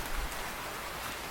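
Steady cartoon rain hisses as an even, dense wash of falling drops, continuous and moderately loud with no voices over it.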